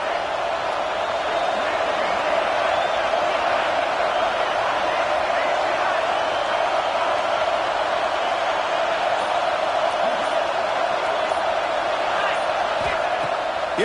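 Dense, steady roar of a football stadium crowd at a college game between Virginia Tech and Washington, a broad continuous wash of many voices with scattered whoops, loud and sustained throughout.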